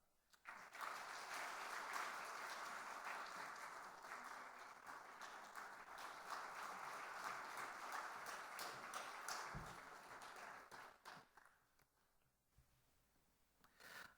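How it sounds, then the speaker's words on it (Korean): Congregation applauding in a church during a worship service as a birth grant is presented, a sustained wash of many hands clapping that holds steady for about ten seconds and then thins out and fades. "출산 장려금 전달할 때 박수로 축하 격려해 주시기를"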